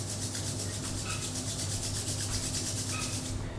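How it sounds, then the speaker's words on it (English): Palms rubbing together briskly during a guided yoga session, a steady continuous swishing friction that holds at an even level for the whole stretch, with no talking. "now join your hands, rub them,"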